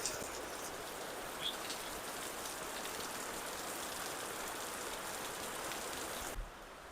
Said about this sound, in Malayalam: ഇപ്പം നല്ല മഴയാണ് പുറത്ത്.